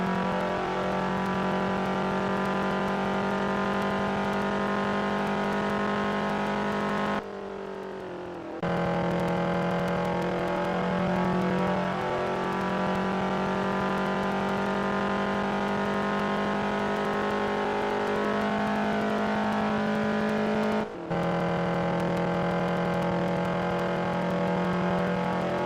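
A race car engine in Real Racing 3 holding a loud, steady high-revving drone with smooth harmonic whine, broken by two brief cuts where the revs drop away before surging back, with no talking.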